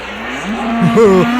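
Brahma bull mooing in a rodeo radio show sound effect, one drawn-out low moo that rises and wavers in pitch, close and loud, no talk.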